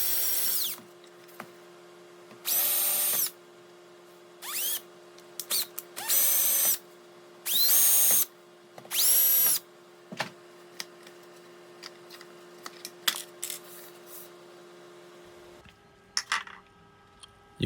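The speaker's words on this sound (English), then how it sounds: "For the stanchions, you'll need to enlarge the holes with a larger drill bit after." Electric drill boring pilot holes through a 3D-printed jig for a G-scale model LPG tank car, six short whining bursts of a few seconds each with pauses and small clicks between, close and fairly quiet.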